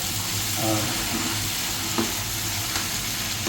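Rice ada tossed in hot ghee with fried coconut pieces and raisins gives a steady soft sizzle, with a few light scrapes and clinks of a spoon against the pan.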